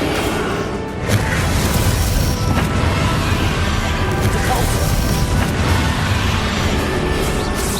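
A Bombarda explosion spell during a boss fight in Hogwarts Legacy, a loud continuous barrage of booming crashes and rumbling that fills the whole stretch.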